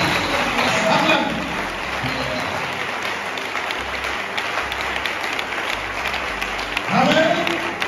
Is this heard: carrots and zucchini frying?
no